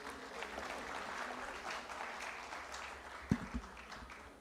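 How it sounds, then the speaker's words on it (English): Faint applause from a summit audience at a sustainable development conference, a soft sustained patter with a couple of louder knocks near the end. "Can we have a round of applause for our speakers here?"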